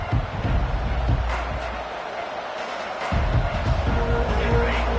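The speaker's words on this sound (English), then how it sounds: "this crowd is fired up. Listen to this noise here" A football stadium crowd roars in a broad, continuous wash of noise, dipping briefly midway before swelling again, with a commentator talking over it.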